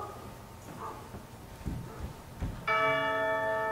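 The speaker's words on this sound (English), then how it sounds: "And the church bell" Faint background noise and a few dull knocks, then the church bell of St Paul's Cathedral strikes loudly, its ringing tone hanging and ringing on.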